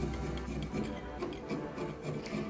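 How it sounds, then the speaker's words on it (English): Close, steady rasping of a jeweler's saw blade worked as a file against a metal pendant, repeated strokes in an even rhythm with no voices. "That is your saw blade working absolutely beautifully as a file."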